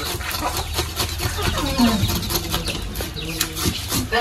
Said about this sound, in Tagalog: ito yung mga manok na tatayo